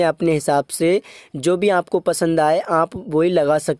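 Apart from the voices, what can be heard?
No everyday noise stands out behind the speech.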